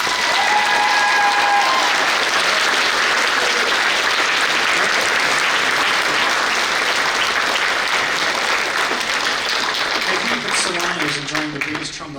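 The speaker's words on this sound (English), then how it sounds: "can we have a round of applause?" Audience at a high school concert band spring concert gives a long round of applause for two teachers, dense steady clapping throughout, fading as a voice starts speaking at the end.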